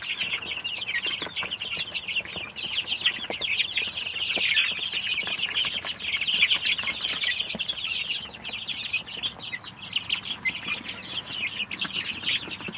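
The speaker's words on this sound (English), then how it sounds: "you the chicks and you guys can take some more guesses to figure out what breed you think they are" Young chicks, including barred rocks, cluck and peep continuously in a chorus, fairly close and moderately loud, with light rustling underneath and no talking.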